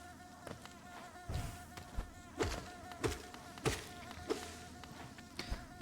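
A swarm of bees drones steadily in a video game's bee area, with a continuous insect hum broken by repeated sharp thuds and clicks spaced about a second apart.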